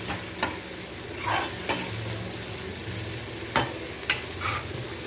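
Onions, tomatoes, green chillies and mint sautéing in a pan, with a continuous close sizzle broken by several sharp spatula scrapes and stirs at irregular intervals, no talking.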